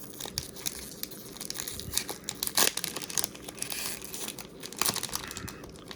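A 1991 Topps Stadium Club baseball card pack being torn open up close, with continuous crinkling wrapper noise, sharp tearing bursts around the middle and near the end, and no voices.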